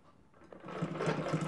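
Sewing machine stitching a zipper into a blouse, a steady whirring run that starts softly and builds to a fuller, louder hum over about a second and a half, with no talking.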